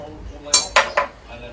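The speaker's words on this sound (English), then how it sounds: "Now I'm going to stir because I want, the peach puree to marry the tea." A spoon stirring peach puree into iced tea in a glass gives three sharp, close clinks against the glass in quick succession, with a quiet background between them.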